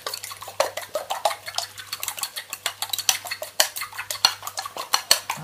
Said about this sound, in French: je casse mes deux œufs. Je vais les fouetter un petit peu,